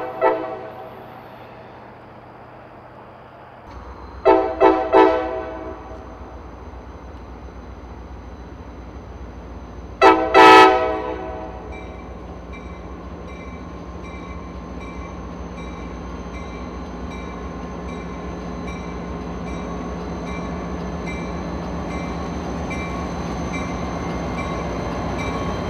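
AB&C locomotive 237 easing down toward a rail switch on the Fitzgerald Sub, with two sharp bursts of horn blasts over a steady diesel engine rumble and rolling rail noise that continues throughout.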